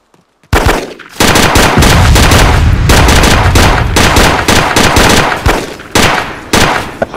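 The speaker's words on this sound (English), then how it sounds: "Gonna provide a suppression fire." Suppression fire in a video game SWAT raid, loud sustained automatic gunfire bursting in after a brief silence, rattling continuously with a few short gaps near the end.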